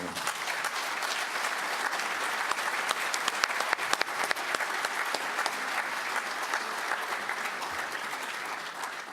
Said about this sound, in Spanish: Este aplauso lo entiendo.